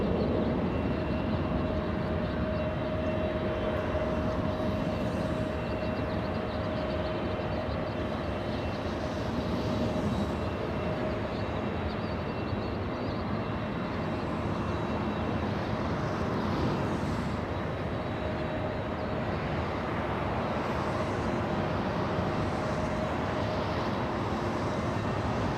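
An airliner landing at LAX airport produces a continuous, broad jet roar with a steady engine whine, heard from a distance for the full duration without talking.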